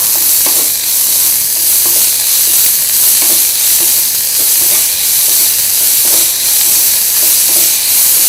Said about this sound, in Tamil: இந்த வெங்காயத்துக்கு தேவையான அளவு உப்பு போட்டு நல்லா இதை வதக்கிக்கோங்க